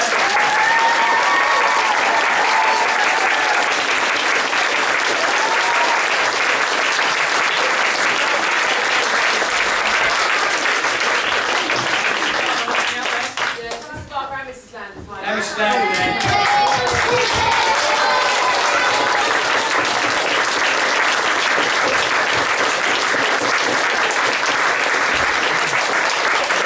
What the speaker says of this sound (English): a huge second round of applause for Mr. Mansfield